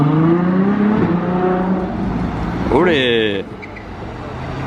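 A black Ferrari 812 GTS convertible roars past with its roof down. The loud engine rises and falls as it passes, then climbs into a sharp, high-pitched acceleration before fading. A person nearby shouts a brief exclamation.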